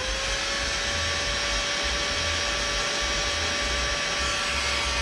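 Steady, loud whooshing roar of a heat gun blowing hot air onto stiff rubber during a jacuzzi circulation pump replacement, continuous and unbroken with a faint whine, no talking.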